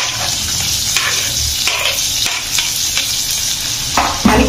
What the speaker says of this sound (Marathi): कांदा सुद्धा आपल्याला असं 1 ते 2 मिनिटं छान असा परतून घ्यायचा आहे